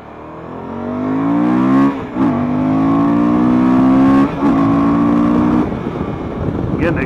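A 2019 Suzuki V-Strom motorcycle accelerates hard, its engine note climbing steadily through the gears with brief dips at each shift, loud and close throughout.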